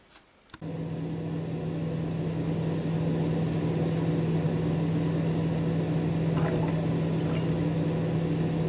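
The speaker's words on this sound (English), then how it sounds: "Sorry about the noise of the fan in the background" A steady electric fan hum drones continuously with a low tonal whine, preceded by a brief click as it starts.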